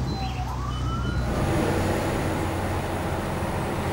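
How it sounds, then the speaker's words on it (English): A police siren wails faintly in the distance, rising and sweeping, under the loud continuous roar of a car driving at about 135 during the Gumball 3000 rally. "Oh, I hear a siren."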